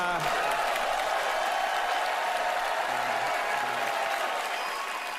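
Audience at the Oscars ceremony cheering and applauding, a dense steady wash of claps and crowd noise that holds at an even level throughout, with a few faint voices mixed in.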